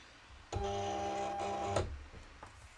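A Silhouette CAMEO 4 cutting machine with an auto blade feeding material in: a steady mechanical whir lasting just over a second, stopping with a click and followed by faint ticks.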